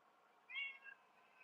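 A cat gives a single short, soft meow indoors against quiet background noise.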